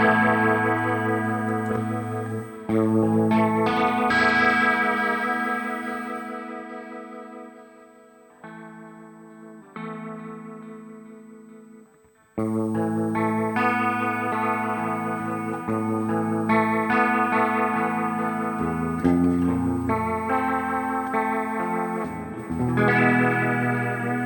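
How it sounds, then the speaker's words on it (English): An electric guitar runs through a Digitech GSP 1101 rotary effect with Ownhammer impulse responses. Sustained chords swirl and warble, with a brief quieter passage and a gap of near silence midway before the full, reverberant chording returns. "I think the rotary effect sounds very nice here too."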